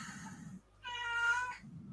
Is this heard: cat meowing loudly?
yes